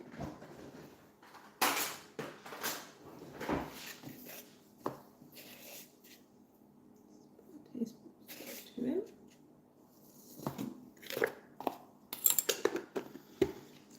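Flour, salt, yeast and milk powder being stirred together in a bowl for bread dough, with irregular clinks and scrapes of a utensil against the bowl, sometimes loud and sometimes soft, amid quieter handling noises.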